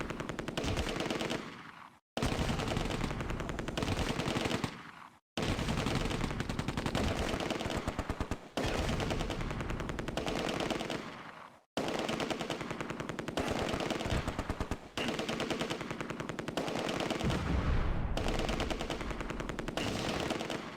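Sustained machine gun and rifle fire from the Close Combat wargame during the Oosterbeek fighting: loud, dense bursts of rapid shots in long runs, broken by a few short gaps.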